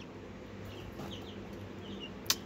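A chicken gives soft, faint clucks over a low, steady farmyard background, with one brief sharp click near the end.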